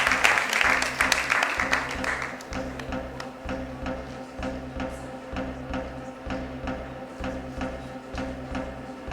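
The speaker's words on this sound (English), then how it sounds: "Let's have a huge round of applause for the panelists" An audience at a nursing conference panel in a Mumbai hotel breaks into applause. A dense burst of clapping fades after about two seconds into scattered, lighter taps.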